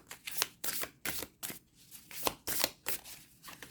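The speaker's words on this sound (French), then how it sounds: "je vais vous tirer 3 cartes" Tarot cards are shuffled and drawn by hand, with about ten crisp riffling bursts coming in quick, uneven rhythm, close and clear with no voice over them.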